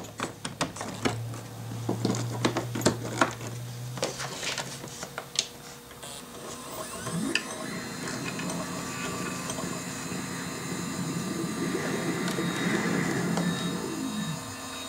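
An original Xbox console, its shell just replaced, powers on and runs with a steady whirring fan hum and mechanical drive noise, after a few clicks and a brief low buzz at startup, close and continuous with no talking.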